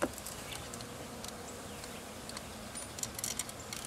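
Honeybees buzzing around a top bar hive as a package is installed, a dense steady hum, close and continuous, with faint scattered clicks and rustles.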